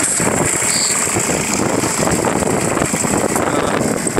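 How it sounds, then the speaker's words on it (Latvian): Mercedes-Benz W210 E290 TD diesel engine idling steadily, a dense continuous rumble with a faint high whine, close and loud throughout with no pauses. "Motoriņš normāli rūc."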